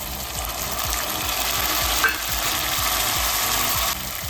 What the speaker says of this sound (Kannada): ಇದನ್ನೆಲ್ಲ ಎಣ್ಣೆಯಲ್ಲಿ ಫ್ರೈ ಮಾಡ್ಕೊಳ್ಳೋಣ.